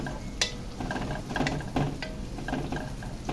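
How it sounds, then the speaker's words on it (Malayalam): Onions fry in a pan until golden brown for fish biryani, a soft, continuous sizzle broken by occasional scraping clicks of stirring. "നമ്മൾ നെയ്ച്ചോറ് വെക്കുന്ന സവാള ഒരു ഗോൾഡൻ ബ്രൗൺ ആകും വരെ വറുത്തെടുക്കാം"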